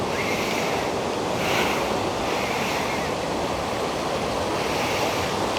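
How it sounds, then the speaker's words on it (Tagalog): A waterfall at Kakawayan Resort in Infanta, Quezon roars in a constant, dense wash of falling water, steady and enveloping with no break. "Pakita ko sa inyo yung falls dito."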